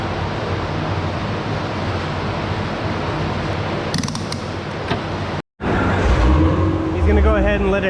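An Acura TL engine runs steadily on a dyno with a loud, constant mechanical roar, a brief cutout partway through, then continuing with whining and creaking tones.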